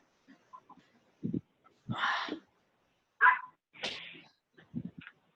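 Several dogs, including one named Dash, playing and zooming around, with a few short scattered barks, yips and snorts heard nearby between quiet gaps.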